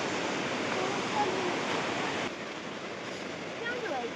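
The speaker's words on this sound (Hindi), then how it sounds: "इस साइड में अभी ऊपर से वाटरफॉल आ रहा है" A monsoon waterfall pours down from above on a village trail, a steady broadband roar of rushing water filling the whole stretch, slightly softer after midway, with faint voices underneath.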